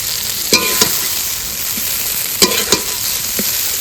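Spice paste fries in a pan with a steady, loud sizzle, broken twice by pairs of sharp scraping clacks from a spatula stirring it; nobody speaks.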